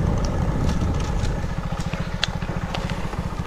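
A motorcycle engine idles close by at a temple near the India–Bangladesh border, a steady low putter with crackling, footstep-like scuffs over it as the bike is parked.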